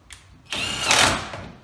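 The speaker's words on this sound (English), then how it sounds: "if you've got your socket wrench," A socket wrench tightens a bolt on a 60-litre wheelbarrow, giving a brief burst of close, mid-loud mechanical clicking and whirring that swells for about a second and then eases off.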